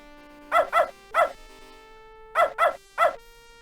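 Dog barking in the point-and-click video game Beneath A Steel Sky: two groups of three sharp, loud barks, close and clear over a quiet sustained music tone.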